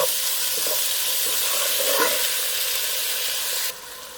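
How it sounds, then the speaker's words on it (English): Two chopped chicken breasts cook in a stew pot with a steady, loud sizzle and hiss throughout, with a few faint scraping stirs near the middle before the sound drops slightly at the end. "This is 2 chicken breasts chopped. And I'm going to cook this until it's nice and cooked through."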